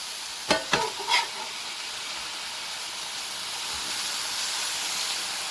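Hamburger meat fries in a pan with a steady, close hissing sizzle, opened by a few quick scraping knocks of a utensil before the frying noise carries on alone.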